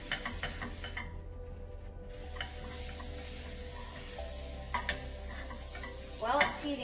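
Oil heating in a crepe pan, a quiet, steady low sizzle with faint scattered ticks and a brief louder crackle near the end; no voices.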